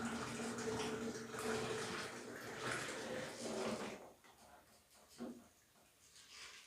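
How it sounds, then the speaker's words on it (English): Hot milk is poured through a sieve into a jug while making homemade yogurt, a faint, continuous splashing trickle that tapers off, with quiet voice sounds in the background. "I'll sieve it in another jug"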